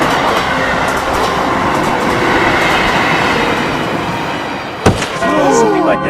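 A KRL commuter train in Indonesia rumbles steadily along the tracks with a continuous roar, then a sharp clatter and high squealing wheels near the end.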